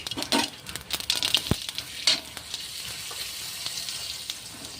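Whole cumin seeds sizzling in hot oil in a pan, a steady crackling fry with a few sharper pops near the start that settles into an even hiss.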